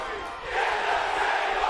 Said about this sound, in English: And they yelled it loud, and they're going for it. In unison. The crowd here at Slammiversary at the Impact Zone.